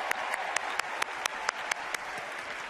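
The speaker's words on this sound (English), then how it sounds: "please give a round of applause to the DJ for the convention" A large convention arena audience at the Democratic National Convention in Charlotte applauds the DJ, with dense, steady clapping from a crowd and a few sharper claps standing out.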